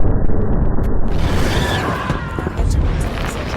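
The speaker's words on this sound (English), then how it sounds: "I've timed the fireworks to go off at this point." Fireworks go off in the video game Hitman 2: deep booms and a crackling burst spread over a dense rumbling background, loud and continuous across a few seconds.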